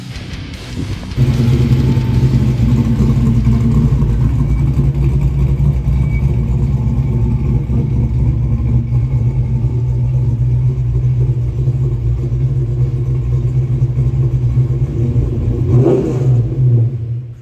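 A powerful naturally aspirated Ford XD Falcon pro street car engine roars loudly and steadily for a long stretch, revving hard under acceleration, heard close from inside the car.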